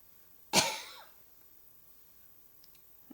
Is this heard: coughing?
yes